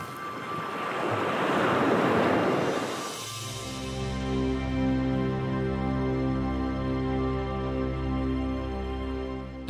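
Sea surf rolls onto a beach in Magadan with wind gusting across the microphone, a loud broad wash for about three seconds that then settles into a steadier windy roar, with no talk.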